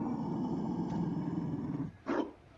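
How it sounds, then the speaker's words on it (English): A Mabari war dog in Dragon Age: Trespasser gives a low, steady growling rumble, then fades briefly before a short, louder snarl near the end; nobody speaks. "You found a dog."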